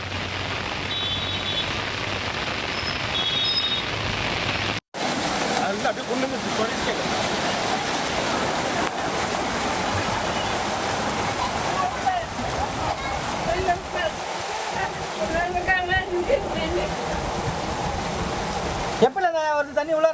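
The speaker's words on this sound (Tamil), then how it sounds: "அனைத்து இடங்களும் இங்கு திருவண்ணாமலையை பார்த்தோம் என்றால் வெள்ள நீரிலே காட்சியளிக்கிறது" Floodwater rushes through Tiruvannamalai during heavy rain from Cyclone Fengal near Sathanur Dam, a loud, unbroken roar of churning water, with voices faintly heard under it.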